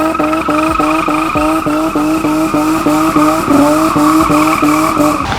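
BMW E30 DTM race car drifting, its tires squealing in a long continuous screech over a revving engine that rises and dips in rapid rhythmic pulses, loud and close.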